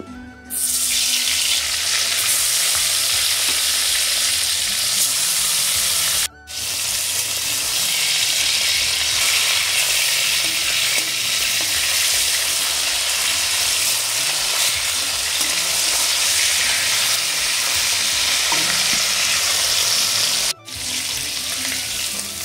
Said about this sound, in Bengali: মাছ ভাজা হয়ে গেছে, এবারে মাছগুলো তুলে নেব